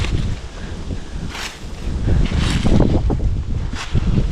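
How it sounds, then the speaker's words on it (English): Cold wind gusting across an open cemetery, a continuous rough rushing roar with buffeting on the microphone, swelling in several gusts over a few seconds. "Oh, that wind's cold."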